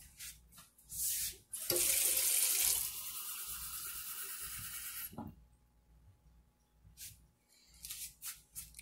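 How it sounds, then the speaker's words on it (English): A measuring cup fills with water from a kitchen tap, a loud gushing burst of about two seconds after a couple of short splashes, then the flow stops and soft clinks and handling noises follow. "now I'm just going to fill this the rest of the way up to get a cup of liquid using water"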